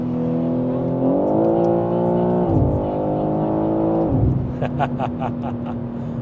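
A sports car sweeps past along a winding European road, its engine note rising and holding steady before dropping away as it passes, loud and close, followed by a lighter engine hum with brief higher bursts.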